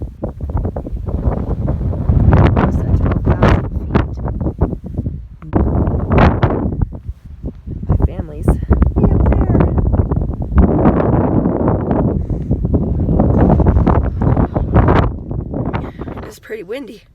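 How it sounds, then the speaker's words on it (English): Strong gusting wind buffets the microphone on alpine tundra in Rocky Mountain National Park, loud roaring bursts rising and falling throughout, with people talking intermittently beneath it. "He says it's not usually this windy up here."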